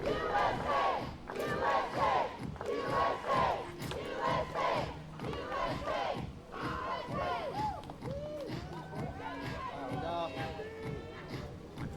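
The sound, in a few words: US fans cheering at an archery final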